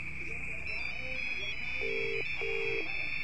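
Phone ringtone playing nearby, a repeating electronic melody of short tonal notes sounding under a steady high-pitched hum and faint background noise.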